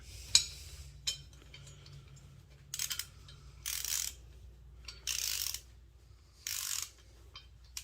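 During assembly of a NordicTrack T Series 6.5 S treadmill, a tool tightens screws with a few sharp clicks followed by several bursts of rapid ratcheting, close and distinct against a quiet low hum, with no talking.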